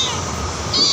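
A single cat meow, close and clear, rising near the end of a short moment of quiet room noise.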